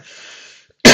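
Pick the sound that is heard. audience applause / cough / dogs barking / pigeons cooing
cough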